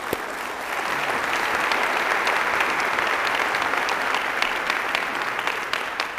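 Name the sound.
conference audience applause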